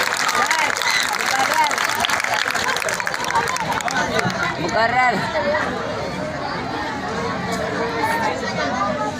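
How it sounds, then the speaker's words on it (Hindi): Applause at a mushaira of Urdu poet Shakir Adibi, a dense, steady wash of clapping and crowd chatter that stays loud throughout, with voices calling out within it. "जोरदार तालियों से इज्जत अफजाई होनी चाहिए"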